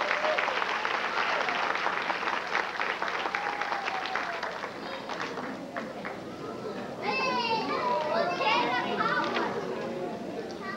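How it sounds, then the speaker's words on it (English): Applause and cheering from a graduation audience for a valedictorian, a steady wash of clapping mixed with excited children's voices and chatter throughout. "Give Kukua another round of applause."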